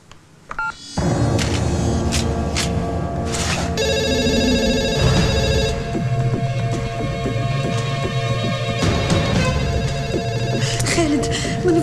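A telephone is dialed and rings in a dramatic film scene, a series of tone beeps followed by sustained electronic ringing with other background sounds, loud and close.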